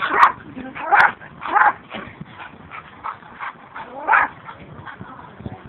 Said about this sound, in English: spit from him doing all that barking